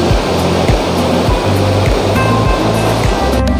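Fast, turbulent river water rushing over stones at Robi Nala near Haflong, a steady loud roar of churning flow close by with no talk.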